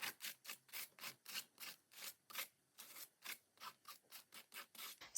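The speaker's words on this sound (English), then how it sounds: "I'll use my thinner gesso and my scraper." Scraper dragging thinner gesso across a painting surface in repeated short rasping strokes, roughly a dozen or more evenly paced swipes, close and fairly loud, with no voices.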